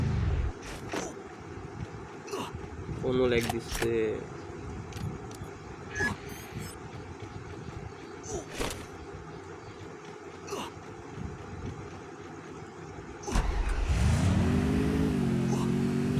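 A car engine in the battle-royale game Free Fire hums low beneath someone talking, then revs up loudly near the end with a rising, sustained drone.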